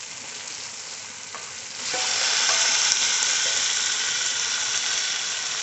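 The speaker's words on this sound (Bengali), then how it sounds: "মশলা থেকে তেল ছেড়ে দিয়েছে এতে ধুয়ে রাখা মাংস দিয়ে দেব" Washed pieces of desi chicken drop into hot spiced oil in a pan and break into a steady, loud, close sizzle that holds for several seconds, with no one speaking.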